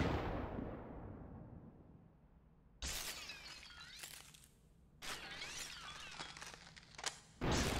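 Sharp shattering bursts in SuperHOT: Mind Control Delete, three sudden loud crashes of breaking debris and blast noise separated by quieter stretches, the middle one ringing out with a glassy scatter before fading.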